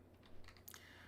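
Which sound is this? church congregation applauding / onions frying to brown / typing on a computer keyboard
typing on a computer keyboard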